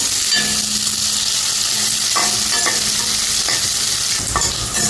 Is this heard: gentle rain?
no